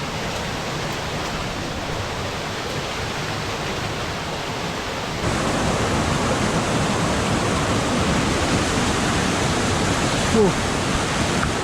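A hidden waterfall in a Kerala forest roars as a dense, unbroken rush of falling water, steady and close, growing louder partway through.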